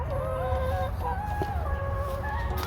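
Chickens clucking steadily in an enclosed chicken run, several birds close by with overlapping calls and no talk.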